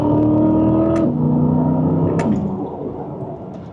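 A Chevrolet Corvette E-Ray's V8 drops through quick downshifts, a loud harmonic engine drone that steps in pitch twice with sharp blips, then eases off, heard close from inside the car.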